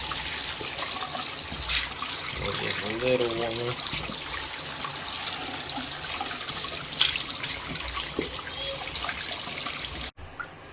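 Hot water running through a hose into an aquarium, a steady hissing, trickling wash throughout at moderate level, with a person briefly speaking over it.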